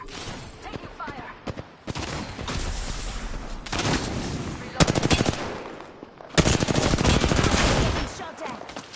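Gunfire in Apex Legends: bursts of rapid automatic shots come in several loud volleys with brief gaps between them, close and dense, with game sounds between the bursts.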